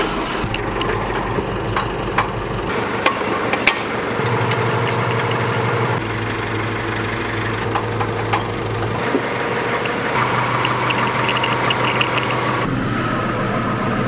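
A tractor engine with a vertidrainer on the back runs in a steady low drone, with woody clattering and knocks over it and no talk.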